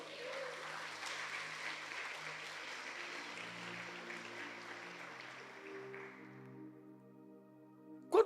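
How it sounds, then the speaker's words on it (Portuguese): Church congregation applauding, a moderate wash of clapping with sustained organ or keyboard tones underneath, fading out near the end before a brief close knock. "Se você é filho, dá um glória a Deus aí e aplauda Jesus."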